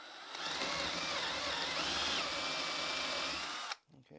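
A power drill whines steadily as a brad-point bit bores into soft wood for several seconds, close and continuous, then cuts off abruptly.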